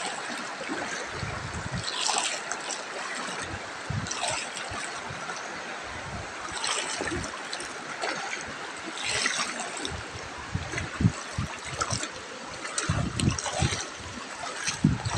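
A river flows and trickles steadily up close as someone wades across it on foot, with uneven splashes and sloshing steps breaking through the continuous rush of water.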